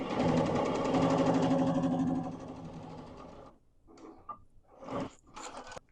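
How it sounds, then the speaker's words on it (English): A sewing machine stitches a seam on a quilt panel made from folk-style flower panels and scraps. A steady, fast mechanical whir runs for about three seconds, then stops, followed by a few quieter clicks and rustles as the fabric is handled. "And I'll just sew one here to demonstrate it"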